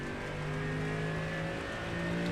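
A GT race car engine in the iRacing sim at Algarve International Circuit in the rain holds a steady, droning rev with a constant whining tone, close and continuous with no pauses.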